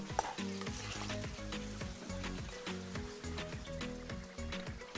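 Chicken and tofu sisig with butter sizzles in a hot pan as it is stirred and mixed. The frying crackle is steady and fairly quiet, with rhythmic scraping strokes throughout.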